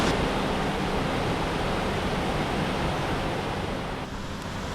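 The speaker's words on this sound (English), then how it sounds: "it's starting to pour on me even more now" Dense, steady roar of heavy rain pouring down at Ricketts Glen State Park, a constant broadband hiss that stays loud throughout and eases slightly near the end.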